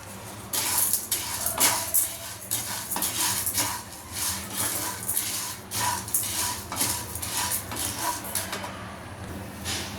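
Lentils and rice being dry roasted in a nonstick pan give off a continuous scraping and rattling as a spoon stirs and tosses the grains, with rhythmic swishes and clinks close by and no talking.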